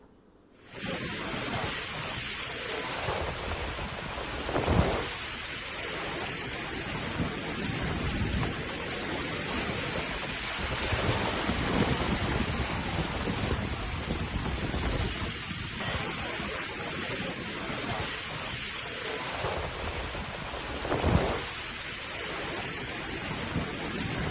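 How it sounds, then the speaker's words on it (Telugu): Heavy rain from Cyclone Fengal pours down steadily, a dense, loud, continuous hiss with no pauses and a couple of brief swells in intensity. "నెల్లూరు, తిరుపతిలో కూడా భారీ వర్షాలు కురుస్తున్నాయి"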